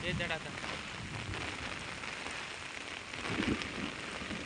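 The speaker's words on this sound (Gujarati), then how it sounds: "જોરદાર વરસાદ વરસી રહ્યો છે" Heavy rain pours down steadily over a pond area in a dense, continuous hiss, with a brief louder surge of splashing near the end.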